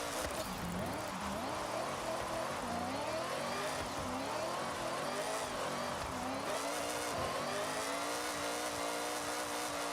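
A car engine revs and whines steadily through a drift in Forza Horizon 6, a B-class car held at high revs with pitch swinging up and down, loud and continuous under game noise.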